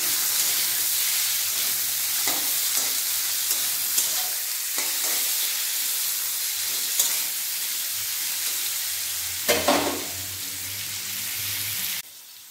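Loud, continuous sizzling as potatoes fry with turmeric and salt in a pan over high gas, with occasional scraping stirs and a brief louder burst near the end.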